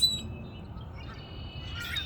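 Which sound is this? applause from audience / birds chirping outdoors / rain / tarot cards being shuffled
birds chirping outdoors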